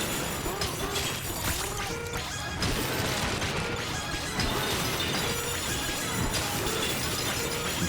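Donkey Kong smashing through terrain in Donkey Kong Bananza, a dense continuous barrage of crashing, shattering hits layered over busy game music, loud throughout.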